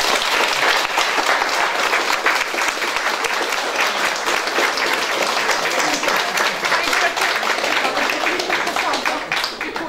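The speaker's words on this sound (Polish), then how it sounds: "tej kobiecie się należą ogromne brawa" Loud, dense applause from an audience at the ceremonial opening of two care and education facilities, a continuous wash of many hands clapping for a woman, sustained throughout without a break.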